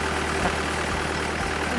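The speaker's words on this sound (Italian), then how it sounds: "È venuto a prendermi col trattore." A tractor engine idles on a road, a steady low diesel rumble with faint rhythmic throbbing, close and continuous throughout the short stretch without talk.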